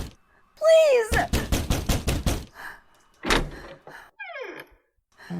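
A series of loud, rapid heavy thumps on a door at close range, someone pounding to be let in, with urgent shouting voices before and after the burst of blows.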